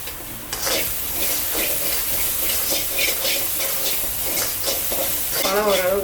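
Tomatoes sautéing in a pan for a village-style pepper tomato kulambu: a steady, close sizzle with scraping stir strokes throughout, and a brief voice near the end.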